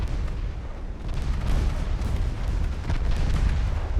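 Naval 3-inch guns fire armor-piercing shells in a video game sea battle, a rumbling low barrage of overlapping distant booms and bursts rolling continuously without speech.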